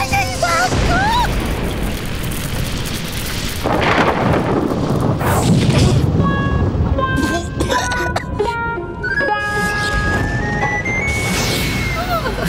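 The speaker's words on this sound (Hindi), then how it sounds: "अगर ये असली विस्फोटक होता तो तुम्हारे चिथड़े उड़ गए होते" Explosion sound effect in a Hindi fantasy superhero TV series: heavy booming crashes and rumbling bursts, loud and layered with dramatic music and effects.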